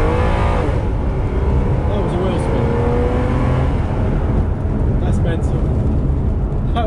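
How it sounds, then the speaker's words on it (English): A Ferrari 456 spins its wheels as the engine revs hard, a loud, continuous roar with rising and falling pitch sweeps heard from close inside the car, with someone speaking over it. "That was a wheel spin."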